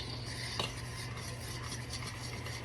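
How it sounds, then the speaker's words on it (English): A whisk scrapes and stirs fried pie batter in a bowl in a steady rhythmic swish, close but soft over a low background hum. "Whisk, whisk, whisk, whisk, whisk."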